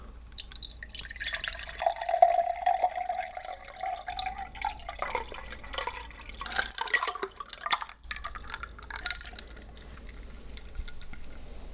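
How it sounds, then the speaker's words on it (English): Water poured into a glass for a guest at a New Orleans fine-dining table, a close, gentle stream with a rising pitch as the glass fills, followed by light clinks and handling sounds. "glass of water for our guest"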